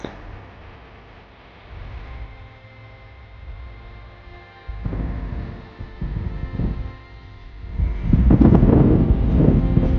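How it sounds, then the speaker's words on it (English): Buffeting wind roars across the microphone in uneven gusts of about 7 to 8 mph by the Boise River, swelling louder toward the end, with no talking. "It's fairly windy today."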